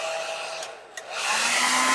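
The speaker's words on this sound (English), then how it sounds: "Use the hair dryer." A hair dryer blows steadily to dry a base layer of acrylic paint on a forest night painting, a loud continuous whir that dips briefly and then returns at full strength.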